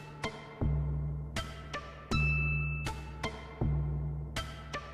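Sequenced sine wave synth layer from a Sonicware Liven Ambient Ø, with sharp percussive hits and pulsing low tones stepping in a steady pattern that varies slightly from step to step, clear and alone.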